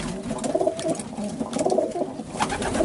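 Pigeons coo steadily in a breeding loft at a Romanian pigeon fancier's, with soft overlapping calls repeating throughout at close range and no voices.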